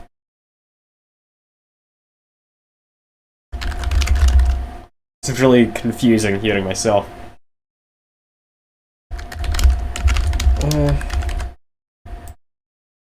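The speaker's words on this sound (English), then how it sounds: "I'm not sure if you're able to hear me typing" Typing on a computer keyboard comes in short bursts of rapid clicking separated by silence, with a person talking over part of it.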